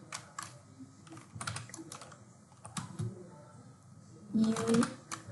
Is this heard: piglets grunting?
no